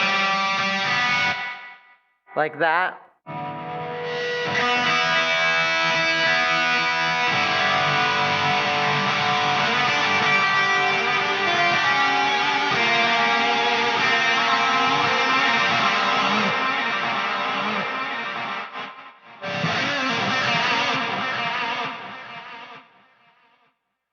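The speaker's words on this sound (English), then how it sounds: "I'm going to put delay and reverb and make it crazy." An electric guitar plays through a Hughes & Kettner Switchblade amp on its ultra channel with heavy delay and reverb, sustained distorted notes smearing into long echoing washes, with brief gaps and a short spoken remark near the end.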